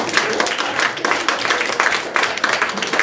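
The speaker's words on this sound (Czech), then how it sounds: "Tak, velký potlesk." An audience at a live literary café event in Ostrava applauding, a steady dense patter of many hands clapping indoors, moderately loud and continuous throughout.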